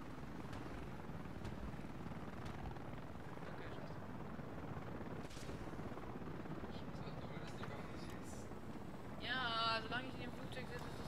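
Aircraft engine in flight in the Battlefield Play4Free video game: a steady, loud droning roar that runs unbroken through the whole stretch and rises into a brief higher whine near the end.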